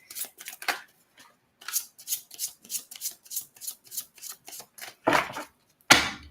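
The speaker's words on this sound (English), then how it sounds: "I'm trying to shuffle" Oracle cards being shuffled by hand, a run of short, crisp riffling bursts in an irregular rhythm, close and clear, ending in two louder flutters.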